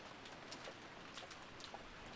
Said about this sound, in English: It's raining pretty hard out there.